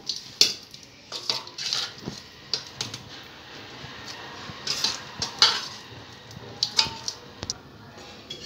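Boiled spinach (palak) drained through a strainer in a home kitchen, with a run of clattering metal pot and utensil knocks and scrapes, close and moderately loud, alone without talk.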